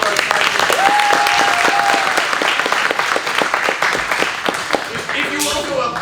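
A theatre audience at an improvised Christmas Carol comedy show breaks into strong, continuous applause for prizes being handed out, with scattered voices and cheers under the clapping.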